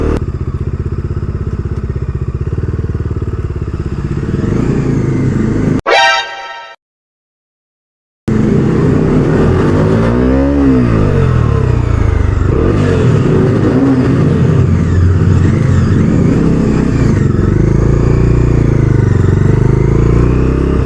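A 2022 Bajaj Dominar 250 BS6 motorcycle is ridden with a loud, close engine drone and wind rush. The sound cuts out briefly midway, then resumes with rising and falling revs.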